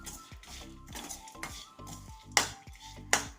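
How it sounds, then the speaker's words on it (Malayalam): A spoon stirs spice powders in a pan while making a roasted-coconut stingray fish curry, giving repeated scraping and clinking strokes of metal on the pan, close and fairly loud, with two sharper knocks near the end. "ഈ പൊടിയുടെ എല്ലാം പച്ച മണം മാറുന്നത് വരെ ഒന്ന് ഇളക്കാം"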